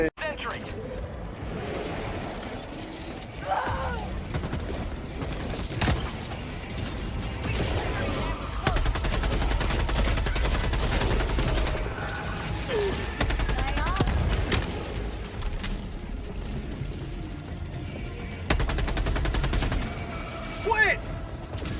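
Bursts of automatic gunfire from a sentry turret in the video game Helldivers 2, rattling in several long stretches amid battle noise and mechanical clatter, with people talking over it.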